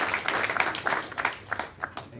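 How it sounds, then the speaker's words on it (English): A small audience at a startup pitch event claps for a presenter, a short burst of scattered individual hand claps, fairly close and moderately loud, with no talking. "Maybe a round of applause for Alex over here"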